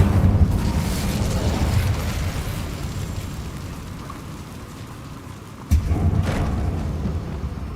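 Incendio fire spell cast in Hogwarts Legacy: a whooshing, crackling burst of flame rumbles loudly, fades over several seconds, then a sudden sharp impact sets off a second fiery roar.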